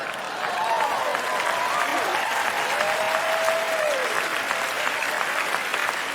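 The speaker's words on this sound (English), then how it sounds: "You don't have to hold the applause inside, Ted." A large TED Talk audience breaks into steady, full applause after a mind-reading performance, a thick continuous roar of clapping throughout with faint whistle-like tones briefly rising over it.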